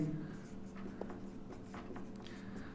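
A pen scratches across paper as a Class 10 maths solution is written out, in short soft strokes with a few sharper taps. The sound is faint and sits under a quiet hum, with a voice speaking now and then.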